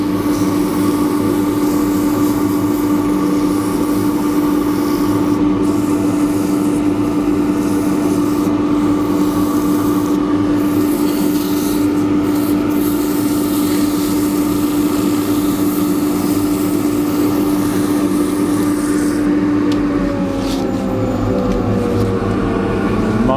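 Sandpaper at 240 grit held against a small natural edge wooden bowl spinning on a lathe, a steady rubbing hiss over the lathe's constant motor hum, loud and close, with the drone shifting in pitch near the end.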